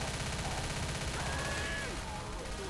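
Rapid gunfire rattles continuously through a Left 4 Dead zombie game round, a dense steady crackle of shots with faint higher tones sliding over it, moderately quiet and without voices.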